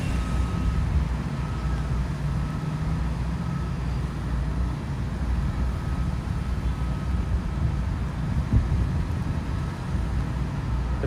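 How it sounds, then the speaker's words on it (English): Outdoor wind blowing steadily and fairly close, a continuous low buffeting rumble that holds even for about eleven seconds with no clear gusts. "we're starting to get a little wind here."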